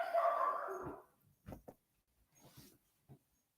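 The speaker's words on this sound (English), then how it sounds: "the little creatures you guys hear always in the background barking, acting crazy" A dog lets out a drawn-out whine or yelp, then a few short, sharp barks follow with brief pauses between them, fairly close.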